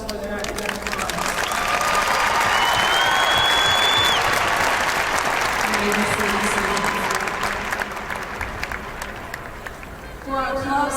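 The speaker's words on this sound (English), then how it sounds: "Please applaud these students for their academic honors" Audience applause fills a high school graduation ceremony in honor of students receiving academic honors, a steady, dense wash of clapping sustained for about ten seconds before fading, with a voice briefly heard at the end.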